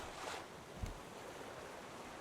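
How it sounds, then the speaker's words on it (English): Faint, steady rush of wind and lapping waves in the video game Raft, with a soft thump partway through; quiet and ambient, no voices. "It's quite windy in there. It's quite wavy as well."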